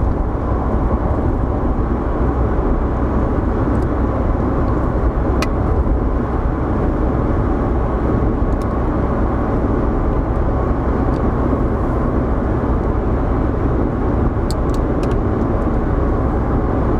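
A car drives along a road toward the motorway on a busy morning in Belgium, giving a steady, loud interior rumble of engine and tyres with faint clicks above it and no pauses.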